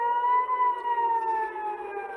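An emergency alert siren gives a steady, loud, slowly falling electronic wail with strong harmonics, heard alone.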